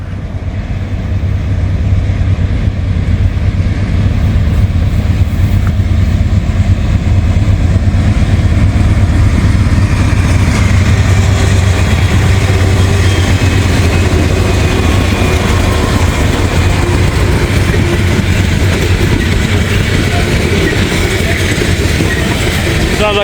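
Freight locomotive L425 passes close and loud, its engine sounding like a bad turbocharger, a dense, continuous rumble with rail clatter that builds and holds for the full length.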